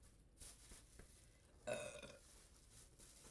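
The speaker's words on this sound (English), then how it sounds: "Here you got all your burps." A person burps once, a loud, short, wet belch at close range, with quieter shuffling and stirring noises around it.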